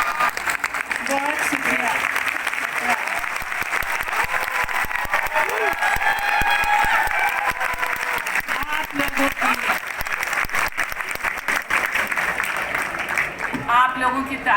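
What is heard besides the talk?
audience applause and cheering at mushaira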